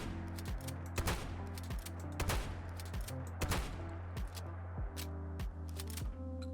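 Rapid shots from an M2BM pump-action shotgun in a Fallout 4 mod, loud sharp blasts with pumping clatter between them, repeated many times over a steady background hum, with no voices.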